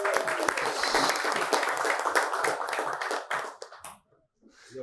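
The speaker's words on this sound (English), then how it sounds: "A big round of applause." Audience applause greets a guest introduced at a Daf Yomi Talmud class, dense clapping that holds steady for over three seconds, then thins out and stops, with a few scattered claps after a brief silence.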